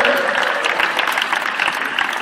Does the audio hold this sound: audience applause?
yes